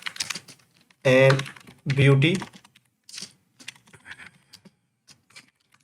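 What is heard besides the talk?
typing a blog title on a computer keyboard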